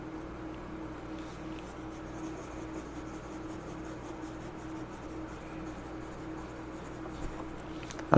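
Fountain pen nib scratching steadily across paper with Colorverse x Goldspot Aurora Borealis ink, a soft continuous close rubbing with small strokes and no talking.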